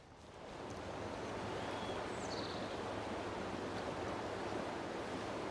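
The River Ribble flows where the River Hodder splits off in the Lancashire countryside, a soft, continuous rushing of water that swells in over the first second and holds steady, with light wind.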